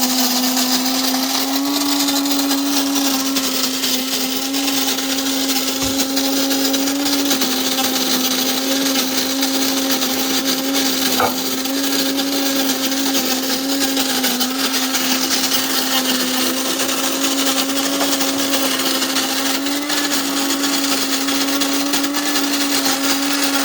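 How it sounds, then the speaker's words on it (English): An electric grinder churns Indonesian medium-roast whole coffee beans into a medium grind, a loud, steady whirring drone with a constant motor hum that runs unbroken and close throughout. "our whole beans have been grinded down into a medium grind into this receptacle"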